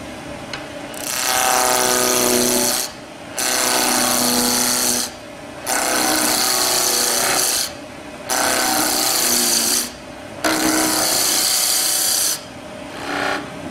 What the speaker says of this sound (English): you use a roughing gouge and come in about halfway along between the two marks there